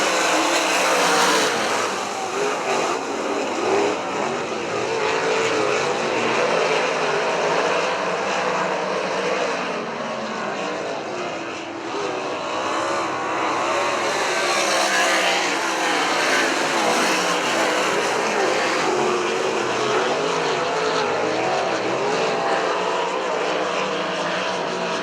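A pack of race cars at Butler Motor Speedway roar continuously as they accelerate off a green flag start, a dense, loud engine drone that swells and fades slightly over the stretch.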